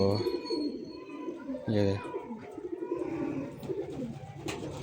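A flock of around fifty pigeons coos softly in repeated throaty calls, one closer coo standing out, while someone talks over them.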